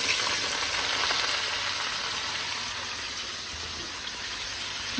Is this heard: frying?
yes